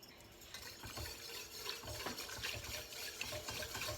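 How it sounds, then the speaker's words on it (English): A whisk works through broccoli cheddar soup with added stock in a pot, making a soft, continuous swishing and liquid churning. It is fairly quiet, close and steady, with no talking. "now I'm going to use my whisk"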